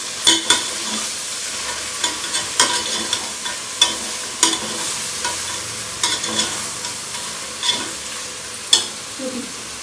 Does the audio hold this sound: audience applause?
no